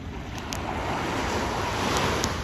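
Surf and strong wind on Frenchman's Beach, a loud, steady roar of breaking waves with gusty wind buffeting the microphone.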